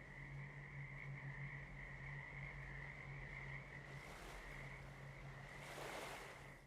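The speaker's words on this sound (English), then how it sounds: "Whoa, do you guys hear the frogs?" A chorus of frogs croaks in Guild Wars 2, a steady buzzing drone with a higher trilling band, joined near the end by soft, surf-like rushes of noise.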